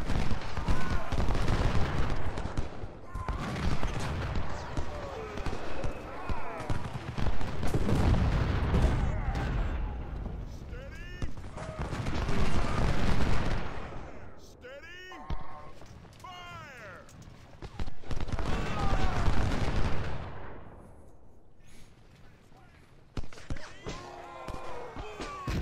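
Artillery fire from Civil War–era cannon in the strategy game Ultimate General: Civil War, with repeated booming volleys and scattered gunfire mixed under continuous game speech and background noise.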